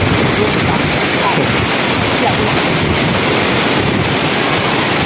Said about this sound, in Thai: เราก็มาดูน้ำตกนะครับ